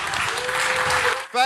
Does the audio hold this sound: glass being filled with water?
no